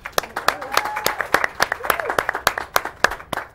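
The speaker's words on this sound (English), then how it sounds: "Let's get a round of applause for Nadine." A studio audience at a local talk show applauds co-hostess Nadine, with dense overlapping claps and a burst of crowd noise that holds for several seconds.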